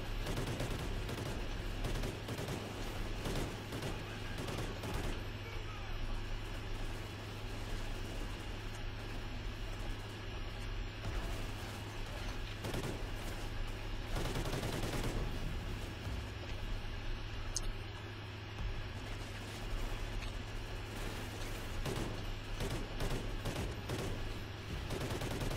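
Automatic fire from the FAD rifle in Call of Duty Ghosts crackles in bursts over a constant low game background, with the firing fairly quiet in the mix.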